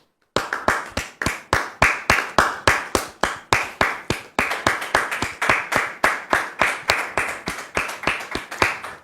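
Loud, close, rhythmic clapping from a studio audience on a French-language Christian show greets a guest, Brother Séraphin, with sharp, evenly spaced claps that continue steadily for about nine seconds.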